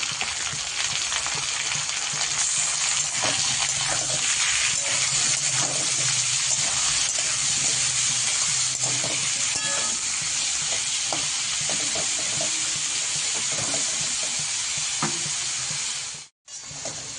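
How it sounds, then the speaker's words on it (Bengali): Prawns frying with potatoes in a pan for a Bengali prawn and banana-flower dish, giving a loud, continuous close sizzle with stirring clatter throughout and a brief dropout near the end. "চিংড়ি মাছটা আলুর সাথেই দেবো, তাহলে একটু হালকা হালকা ভাজা হবে"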